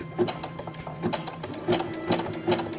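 A sewing machine stitches elastic onto a bra, giving a loud, close, continuous mechanical whir with a regular rhythmic needle clatter throughout.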